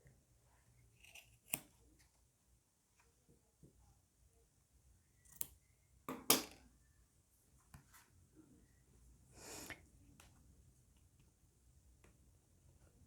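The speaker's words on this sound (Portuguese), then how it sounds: "corta o excesso de tecido" Scissors snipping away excess fabric in a quiet craft session, a handful of sharp isolated cuts spread apart in time, with faint handling noise between them.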